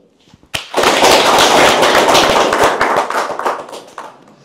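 An audience at a prisoners' welfare day event bursts into loud clapping, dense and sustained for about three seconds before tapering off into scattered claps.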